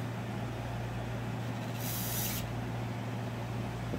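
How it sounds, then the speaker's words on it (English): A short hiss of spray lasting about half a second, heard while cleaning the Briggs OHV engine of a Craftsman 2700 psi pressure washer, rising over a steady low hum with no talk. "While you're spraying it."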